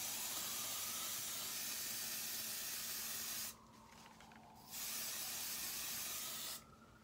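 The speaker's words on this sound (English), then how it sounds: "And this is also a dry shampoo." Dry shampoo aerosol sprayed onto hair in two long hissing bursts, the first lasting about three and a half seconds and the second a bit shorter, close and steady, separated by a brief pause, no talking.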